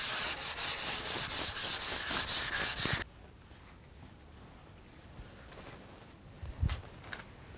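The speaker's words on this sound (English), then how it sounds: "I'll sand it down and then wipe off the dust and then apply my new coat." Hand sanding a water-based wood finish with 400 grit sandpaper: about a dozen quick rhythmic back-and-forth rubbing strokes, close and loud, then near-quiet with a few faint handling sounds.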